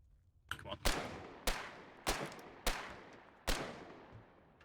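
Gunfire in the war video game Foxhole: five sharp shots at roughly half-second to one-second intervals, each fading in a short echoing tail, with a faint crackle before the first.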